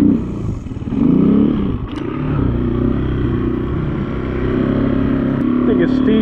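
A Honda XR200 motorcycle engine running steadily while being ridden, a close, loud, buzzing drone that rises and dips with throttle, with a voice talking over it.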